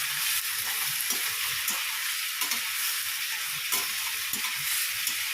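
Kashmiri red chillies and whole garam masala fry in hot oil with a steady, close, crackling sizzle and occasional small pops throughout.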